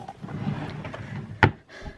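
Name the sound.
makeup drawer opening or closing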